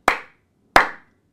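Two sharp, close hand claps spaced under a second apart ring out in a quiet room during a musical counting game, each snapping crisply and fading into silence.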